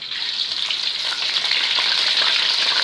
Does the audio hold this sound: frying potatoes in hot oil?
yes